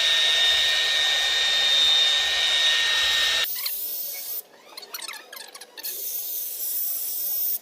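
Wet-sanding a Lexus LS430 headlight lens with 800-grit paper from a 3M restoration kit gives a steady close hiss for a few seconds, then quieter, uneven rubbing strokes with brief pauses.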